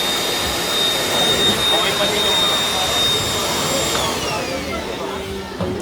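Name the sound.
Stanley wet and dry vacuum cleaner running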